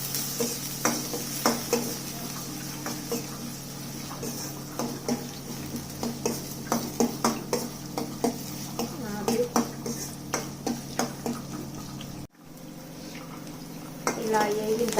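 Beans, onions and peas fry in a pan under a rapid run of spoon clanks and scrapes against the metal over a steady sizzle, close by, breaking off briefly near the end before resuming.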